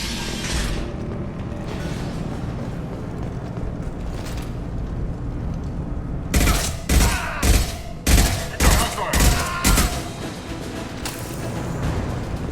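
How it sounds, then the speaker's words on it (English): Gunfire in the video game Mass Effect 2 during a firefight with Blue Suns mercenaries and Vorcha: a low ambient rumble first, then a loud run of heavy, rhythmic weapon shots in quick succession, with no speech. "The Blue Suns and Vorcha are shooting anything that moves."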